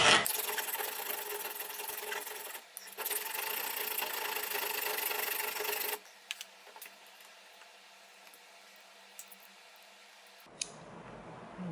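A metal shaft being filed down by hand for a pick tool, a loud, continuous scraping rasp in two long bursts with a short pause between them, followed by quieter background with faint scrapes.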